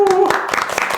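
Brief applause from an audience at a university alumni news gathering, a quick burst of close, scattered hand claps lasting about a second.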